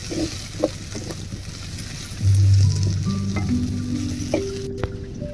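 Small shallots sizzling and frying in groundnut oil in a kadai, a steady close crackle with occasional stirring clinks and a louder burst partway through, no voices.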